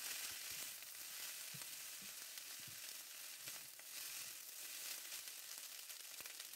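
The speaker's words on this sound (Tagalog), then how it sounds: "lagay na ang cooked tuna mixture. I-stir fry ito ng 2 to 3 minutes" A cooked tuna mixture is stir-fried into fried rice, giving a faint, steady sizzle with occasional soft scrapes and taps of the stirring, and no talking.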